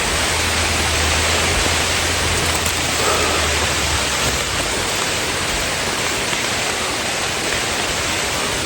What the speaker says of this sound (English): So it's kinda slippery because it's raining.